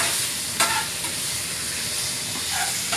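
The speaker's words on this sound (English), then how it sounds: "I scramble with the fork" Eggs are scrambled with a fork in a hot pan, with quick scraping and tapping strokes over a continuous close sizzle.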